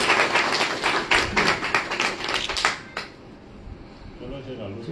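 An audience at an award ceremony breaks into dense, rapid clapping for about three seconds, then stops abruptly, leaving quiet room ambience with a faint murmur.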